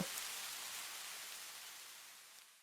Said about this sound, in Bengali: বৃষ্টির গতি যেন আরো বেড়ে গেল